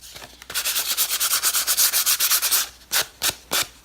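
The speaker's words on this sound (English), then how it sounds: "Next, I brought in a piece of just sandpaper, and I'm going to give this a little bit of dimension." Sandpaper scrubs briskly along the edges of watercolor card pieces for a Christmas card, a steady run of rapid close rasping strokes followed by three separate short swipes, with no talking.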